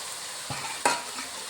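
Bitter gourd and onion fry in a pan with a continuous close sizzle, marked by two brief stirring knocks.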